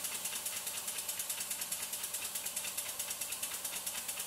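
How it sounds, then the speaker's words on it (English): Model steam engine driving a small DC dynamo, running steadily with fast, even mechanical ticking and chuffing pulses over a continuous hiss, close and uninterrupted. "That's a good runner, this engine."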